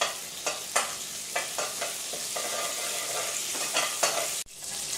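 Red onions and grated coconut sizzle and fry with spluttering mustard seeds in a Kerala-style koottucurry, loud, steady frying with a few stirring scrapes and pops close up, no speech.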